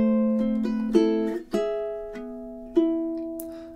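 Low G ukulele plays the opening two measures of the classical piece A Little Flower, a few plucked notes ringing out alone in a steady triple-time rhythm, close and clear with no talking.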